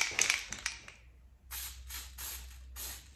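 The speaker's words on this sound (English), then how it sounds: "I might spray some snow on it." Artificial snow sprayed from an aerosol can onto a Christmas bauble, heard as four short hissing bursts in quick succession, fairly close and moderately loud, after a brief rustle of handling.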